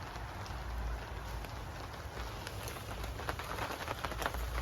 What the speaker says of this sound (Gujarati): જો વરસાદ હજી જસ્ટ ચાલુ જ થઈ ગયો છે